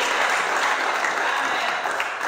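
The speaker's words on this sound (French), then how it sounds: "Acclamons très fort le Seigneur." A church congregation applauds loudly during a Sunday worship service, a dense, steady wash of clapping that fills the whole moment without break.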